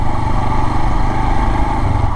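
A motorcycle engine drones loudly and steadily while the bike is ridden along a road in Bihar, India, a close, continuous mid-pitched hum with no pauses and no voices.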